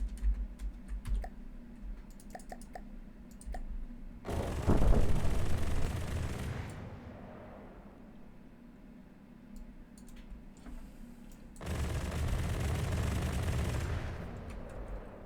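A Gatling gun fires in From the Depths in two sustained roaring bursts of several seconds each, loud and dense. Light clicking sounds come between the bursts.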